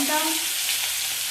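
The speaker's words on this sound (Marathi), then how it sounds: "तेलामध्ये जिरे मोहरी टाकून घेतलेली आहे. एक मिरची, त्यानंतर कांदा" Green chili and onion frying in hot oil with cumin and mustard seeds, a dense, steady sizzle that stays loud and close through the whole short moment.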